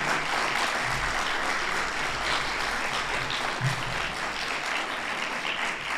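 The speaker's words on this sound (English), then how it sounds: "we can lift a hearty round of applause for Mrs. Eldine Lord" A conference audience gives a hearty round of applause honoring Mrs. Eldine Lord, sustained and even clapping that fills the room at moderate loudness with no voices standing out.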